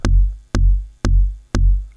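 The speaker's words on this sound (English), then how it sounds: "I found a really nice tom that almost sounds like a bass drum" A deep tom drum tuned so it almost passes for a bass drum, struck four times at an even half-second pulse, each hit booming and decaying smoothly, alone and close.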